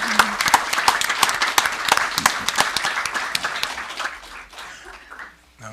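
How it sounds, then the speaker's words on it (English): Applause from a school board meeting crowd rings out loud and dense for several seconds, with a few sharper claps standing out, then thins and fades away near the end. "can everybody give a round of applause for everybody here to make that happen?"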